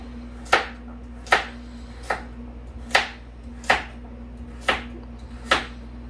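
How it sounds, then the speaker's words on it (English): Vegetables being chopped with a knife on a cutting board for hamburger soup, seven sharp, evenly spaced chops close up over a low steady hum, no talking. "we're going to finish chopping our vegetables and get them in here"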